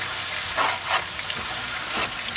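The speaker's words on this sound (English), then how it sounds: "Let it fry and mix with the oil" Liberian-style collard greens fry in oil in a pot, giving a steady broadband sizzle and hiss with a few louder bursts of crackle as the greens are stirred, fairly close and with no voices.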